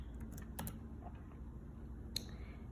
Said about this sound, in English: you type your message